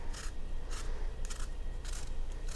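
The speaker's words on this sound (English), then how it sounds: "Now to peel those, I like to use the Rada Vegetable Peeler." Apples being peeled with a sharp Rada vegetable peeler, four short rasping scrapes at a steady rhythm, close and fairly quiet, with no talking.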